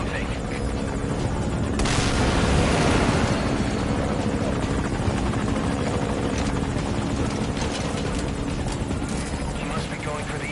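A helicopter in Metal Gear Solid V roars continuously and loudly with a dense rotor wash, swelling briefly early on, while game voices speak over it.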